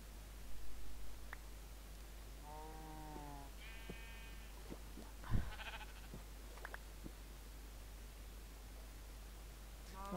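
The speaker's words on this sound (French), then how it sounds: "Alors les moutons ne donnent pas de nourriture" Sheep bleat in a survival video game, a few separate bleats of varied pitch over a steady low hum and background hiss, moderately faint with no talking.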